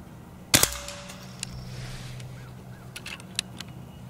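A Beeman underlever .177 PCP air rifle fires outdoors, a single sharp crack followed by a quick ringing metallic ping as the pellet hits a can, then faint distant outdoor sounds.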